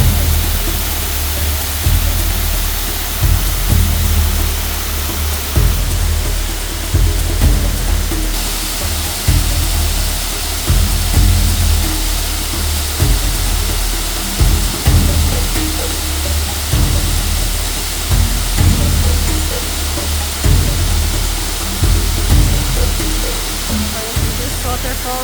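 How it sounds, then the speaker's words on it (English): Waterfall in Canaima, Venezuela, a steady loud roar of falling water across the whole clip, with faint voices and bumps under the rushing sound. "This waterfall was much smaller than another one that we're gonna cross"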